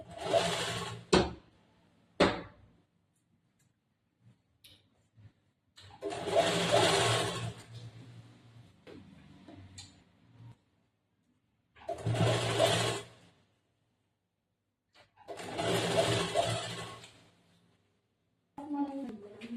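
A sewing machine stitches around the neckline of a long umbrella frock in a tailoring class, running close and loud in three sustained bursts with quiet pauses and a voice in between.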